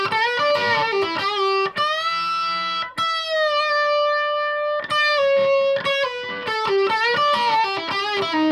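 A 1980 Washburn Falcon electric guitar on its bridge humbucker plays a run of bright, distorted notes and sustained bends, loud and close, with brief gaps between phrases and no speech.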